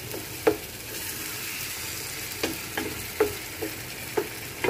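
Spices and fried eggplant stirred in a pan, with a soft steady sizzle and scattered spoon clinks and scrapes at irregular intervals, close and moderately quiet.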